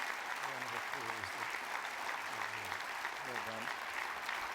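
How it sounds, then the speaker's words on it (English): Enthusiastic audience applause at a university graduation ceremony after an honorary doctorate is conferred, a broad sustained roar of clapping with a voice talking over it at intervals. "That was the most incredibly enthusiastic round of applause."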